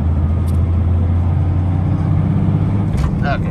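A 5.9L Cummins diesel in a second-generation truck with a failing turbo and no boost drones at full throttle up a grade, a low, steady cab rumble with a faint whine. Someone speaks over it.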